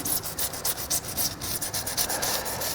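Bondo body filler on a car is sanded by hand in quick, even back-and-forth strokes, a close, gritty rubbing rasp repeating steadily with no voices.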